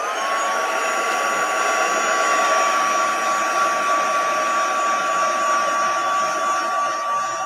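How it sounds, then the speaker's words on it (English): A heat gun drying an inked craft piece gives a steady, loud blowing whir with a constant high whine, running evenly throughout with no talk. "I'm just going to hit this with the heat gun."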